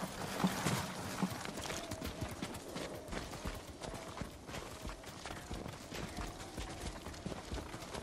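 Horse hooves clip-clop in a steady rhythm on hard ground in the video game Ghost of Tsushima, close and moderately loud, with faint ambient rustle around them.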